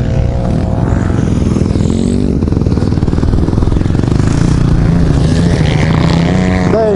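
A Yamaha 250 motorcycle engine runs loud and close throughout, a constant buzzing drone with slight shifts in pitch as it revs, no speech over it.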